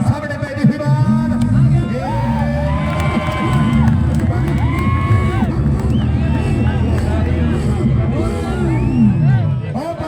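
A large crowd at an outdoor kabaddi match between Adampur and Haryana roars and cheers loudly, with whoops and shouting voices rising over a constant babble.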